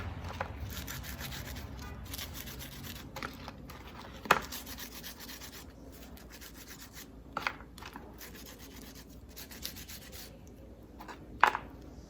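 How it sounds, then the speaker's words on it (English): Grilled ciabatta bread being rubbed with garlic, a quiet, continuous dry scraping and rasping texture with a few sharper knocks, close up and without speech. "So just rub both sides with garlic."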